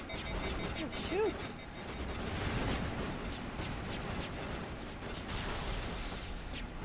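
Gunfire in the video game Mass Effect, a busy stretch of rapid shots and impacts that runs continuously at a moderate level, with voices underneath.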